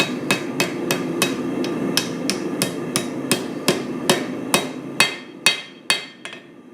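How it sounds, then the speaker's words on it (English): A hammer strikes a hot metal piece bent over an edge while a small garden tool is being shaped. About fifteen sharp, ringing blows come at a steady rhythm, close and loud, with the last few spacing out. "Hammer that down nice."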